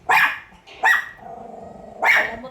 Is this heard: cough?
no